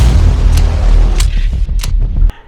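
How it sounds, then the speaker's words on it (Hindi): A string of deep booming explosions, about four sharp blasts with rumbling low tails, loud and close, ending in an abrupt cut to near silence. "तब तब एक ऐसा धमाका हो"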